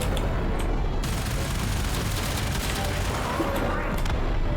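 Railjack ship weapons and a mist missile fire in Warframe, heavy overlapping blasts and booming gunfire rolling continuously at loud, close range.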